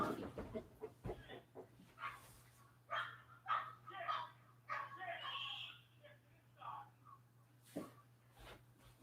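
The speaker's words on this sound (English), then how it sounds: "The neighbors' dogs are fighting." Neighbors' dogs bark and fight outdoors, with a series of irregular yelps and barks spread across the whole stretch, fairly distant and mixed with a steady background hum.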